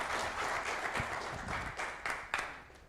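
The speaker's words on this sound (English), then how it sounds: "let's give him a round of applause" An audience at a public speaking boot camp session claps for a speaker, a steady wash of applause with a few sharper individual claps standing out near the end.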